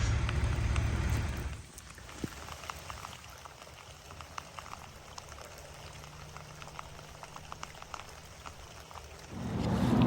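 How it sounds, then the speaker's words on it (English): Rain starting to fall in a forest, heard as a soft, steady patter of drops with scattered sharper ticks, framed by louder rumbling noise at the start and end. "Rain's starting now."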